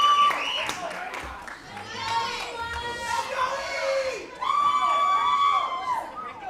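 Spectators at a Jaguars vs Dolphins baseball game cheering and whooping, with rising and falling shouts and high excited voices mixed with crowd noise and talk, loudest near the end.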